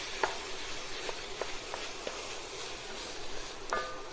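Plant-based Beyond Beef meat sizzles steadily in a hot pan as a utensil stirs it, with soft scraping clicks and taps scattered over the continuous frying hiss.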